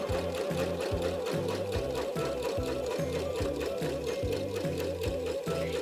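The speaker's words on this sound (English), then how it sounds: "now we're just going to go ahead and create a straight stitch" A sewing machine runs a straight basting stitch through fabric with no backstitching, a steady rhythmic whirring chatter of the needle that stays loud and even throughout, with no voices.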